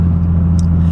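Car fitted with a loud aftermarket exhaust, a deep steady droning rumble close to the microphone, with no one speaking over it.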